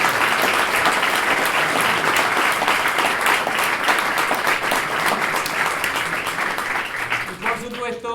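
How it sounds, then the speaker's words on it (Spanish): An audience claps in a full, sustained round of applause at a talk event, dense and even before tapering off near the end as a voice begins. "para los cuales pido un gran aplauso"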